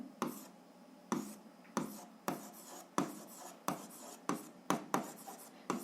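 A pen on paper plotting a point on a graph makes a series of crisp scratching taps at an uneven rhythm, close and quiet, about a dozen strokes.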